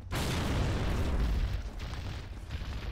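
A frag grenade explosion in the Gears of War video game gives a loud, sustained, broadband roar that holds for about a second and a half and then tails off slowly with rumbling.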